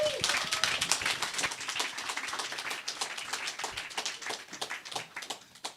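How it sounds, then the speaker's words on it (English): Audience applause welcoming speakers to a fireside chat on banks and crypto, a moderate spread of clapping from a modest crowd that gradually thins out, with some talk beneath it. "warm applause."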